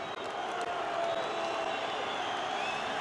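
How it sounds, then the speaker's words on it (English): Boxing arena crowd at a Martin Rogan vs Sam Sexton fight, a steady loud roar of many voices reacting with displeasure, dense and continuous with no single voice standing out. "And the crowd don't like that."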